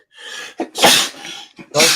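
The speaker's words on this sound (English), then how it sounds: "My first sneeze." Several sneezes in quick succession, close and loud, with short breathy pauses between them.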